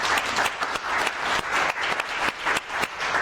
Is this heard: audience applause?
yes